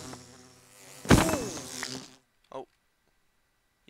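Bees buzzing in the Minecraft video game, a loud harmonic drone that flares up briefly, fades, and returns in short faint bursts, with a voice talking.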